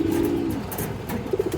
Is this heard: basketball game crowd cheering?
no